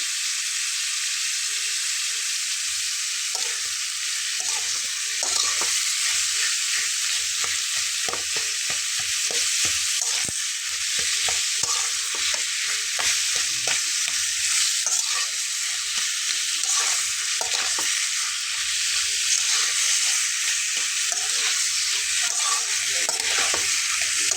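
Papaya curry sizzles and fries steadily in a pan while a spatula stirs it with repeated scraping strokes, close and continuous with no talking.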